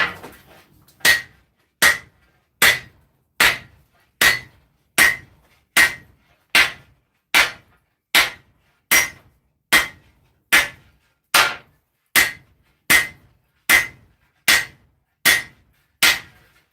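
A hammer strikes a sword blade on an anvil while forging a seven-foot Berserk-style sword, about twenty sharp ringing blows in a steady, evenly spaced rhythm at close range.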